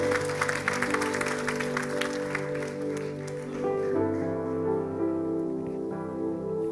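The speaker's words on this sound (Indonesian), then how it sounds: "Tepuk tangan buat Tuhan kita, saudara." A church congregation at a Sunday service applauds, the clapping blending with sustained organ or keyboard chords that carry on after the clapping fades, moderately loud and continuous.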